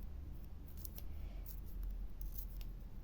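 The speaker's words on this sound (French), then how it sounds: "Je pense que je vais couper comme ça." Scissors cutting paper for an art journal collage, a faint series of quick crisp snips close by with low background hum, no talking.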